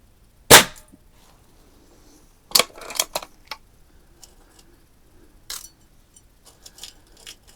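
Daisy 131 air rifle firing domed pellets at cans from 7 yards: a sharp crack, then a close pair of snaps a couple of seconds later and one more shot, with small metallic clicks and ticks between.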